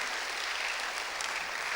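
Applause from a church audience at a French-language sermon, a continuous, fairly quiet patter of many hands that sounds somewhat distant and holds evenly for the whole moment.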